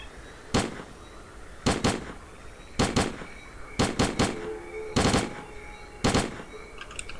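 Sharp bursts of gunfire in the video game S.T.A.L.K.E.R.: Clear Sky come in quick clusters of two or three shots, repeating about every second with brief pauses between volleys, loud and close.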